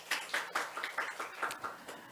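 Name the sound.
congregation clapping in church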